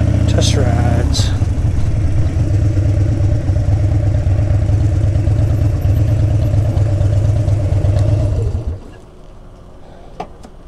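A new Harley-Davidson Street Bob motorcycle engine runs steadily with a deep, loud, throbbing idle for about eight seconds, then cuts off, leaving near silence and a faint tap.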